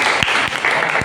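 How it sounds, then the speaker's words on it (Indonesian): A classroom of students applauds their classmates with a steady patter of clapping hands, some sharper claps standing out against the thinner group sound. "Kita beri tepuk tangan kepada ya."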